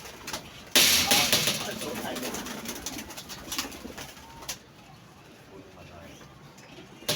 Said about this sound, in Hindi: ये दोस्तों चीना कबूतर है